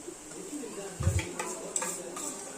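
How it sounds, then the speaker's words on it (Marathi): Onion frying in oil with ginger, garlic and chilli paste, a soft continuous sizzle with one brief low clunk of stirring partway through, quiet and close. "कांदा छान सॉफ्ट होईपर्यंत आपल्याला परतायचा आहे तेलामध्ये"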